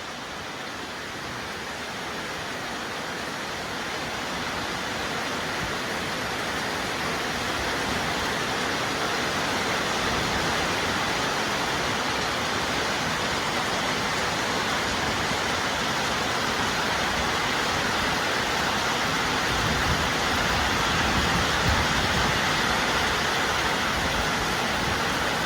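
Very heavy rain pours down in a steady, dense broadband roar that stays loud and unbroken throughout, with no talking over it.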